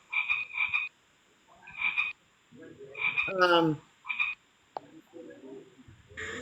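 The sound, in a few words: frog croaking sound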